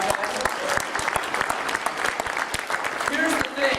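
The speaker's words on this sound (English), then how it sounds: "can we please give Drax a round of applause, guys?" Audience at the Las Vegas Wedding MBA Show 2013 claps in a dense, sustained round of applause lasting throughout, with a voice speaking over it.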